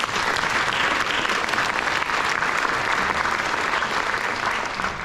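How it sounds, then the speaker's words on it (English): A dense, steady wave of audience applause fills the room at a community event, loud and continuous throughout without a break. "So let's give them a big round of applause."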